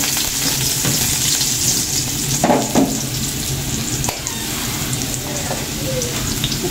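Vegetables and tuna frying in a hot pan give a loud, close, steady sizzle, broken by a few clattering stirs and scrapes.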